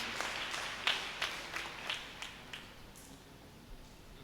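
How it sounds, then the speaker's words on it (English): A handful of scattered claps ring out at a flag-hoisting event for a church feast, faint and sparse, with irregular individual hand claps fading over a few seconds. "Please give them a loud round of applause, please."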